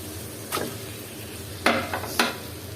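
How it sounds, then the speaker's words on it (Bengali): Pieces of coral fish are stirred in a spice mix frying in a pan, giving three sharp scraping bursts over a steady low sizzle. "আর মাছগুলো দিয়ে আমি একটু আরেকবার নেড়ে চেড়ে দিচ্ছি"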